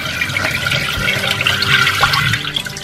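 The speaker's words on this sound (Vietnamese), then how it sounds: "Chúng ta mở vòi nước nhẹ như thế này," A kitchen water tap runs gently for rinsing garlic and green onions while they are trimmed, a steady splashing stream with small irregular splashes close to the microphone.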